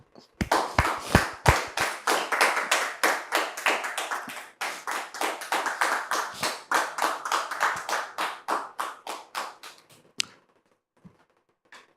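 Studio audience on a television talk-show set clapping to welcome a guest, loud, rapid, sharp claps close by for about ten seconds, then stopping, leaving a few isolated taps.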